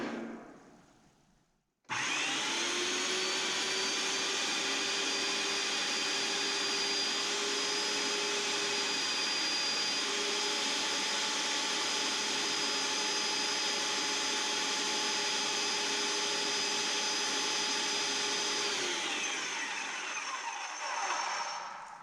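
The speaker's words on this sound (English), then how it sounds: "we're gonna fire this pump up again until we start getting some color through our prime tube" A Krause & Becker airless paint sprayer's pump starts abruptly and runs at a steady, loud, high-pitched drone while priming, holding unchanged for about seventeen seconds before winding down at the end.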